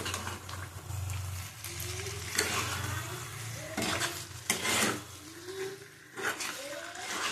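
Soft lote fish (Bombay duck) seasoned with salt and turmeric is gently stirred in a pan, with a low sizzle and several scraping strokes of the spatula close by. Faint voices can be heard in the background.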